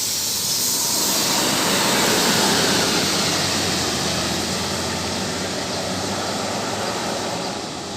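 A BMS bus from Jambi rolls into Pekanbaru terminal. A loud, continuous engine roar mixes with rushing, hissing noise that swells early, holds steady and tapers off at the close, with no voices.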